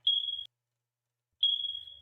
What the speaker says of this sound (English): Sounds just like a smoke alarm